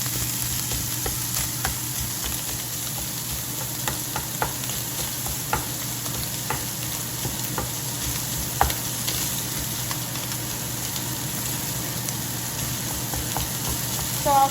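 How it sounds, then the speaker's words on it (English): Ground sausage sizzles and fries steadily in a pan while being broken up and stirred, with scraping and spatula taps over the continuous crackle. "I just continue cooking and breaking it up and mixing."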